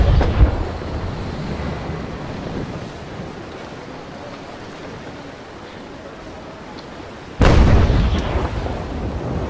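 A ship's cannon in a naval brig battle game fires one loud, sudden boom near the end, over steady wind and ocean surf. A fainter thump comes at the very start.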